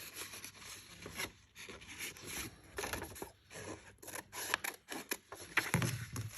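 Scissors snipping through paper while a double coin envelope for a journal page is cut out, giving close, dry crunching cuts in short irregular bursts with quiet pauses between them.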